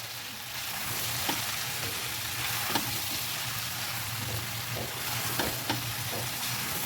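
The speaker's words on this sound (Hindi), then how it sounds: "बाकी की जो प्याज है ना वो इस टाइम पे हम इसमें डाल देंगे। इसमें इसे अच्छे से करेंगे मिक्स।" Onions are stirred into keema frying in a pan, giving a constant loud sizzle with occasional soft spatula scrapes and knocks.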